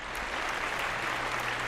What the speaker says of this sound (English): that was a big round of applause for Merlin.